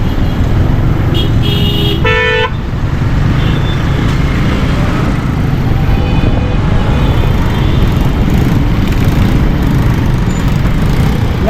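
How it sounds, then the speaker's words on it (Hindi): Congested traffic jam on a Karachi street near Clifton and the Boat Basin food street, with a steady roar of engines and a couple of short car horn toots early on over the constant rumble. "यहाँ ट्रैफिक पता नहीं क्यों जाम हो रहा है।"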